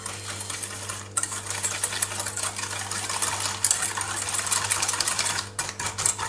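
Sugar and eggs being whisked together in a bowl for a flan, a fast continuous whirring and clicking that runs steadily and close, briefly pausing, with no voices.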